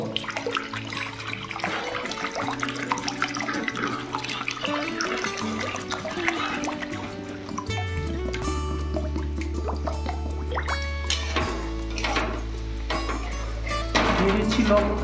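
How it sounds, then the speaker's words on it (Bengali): Water is poured into a cooking pot while chili chicken is being made, giving a close, steady gushing fill whose pitch shifts as the pot fills, with a loud low splash near the end. "দিয়ে দিচ্ছি জল"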